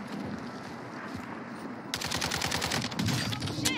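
Rapid automatic gunfire in Warzone 2, with a sustained burst of closely spaced shots starting partway through and running loud and steady to the end over a low rumbling game backdrop.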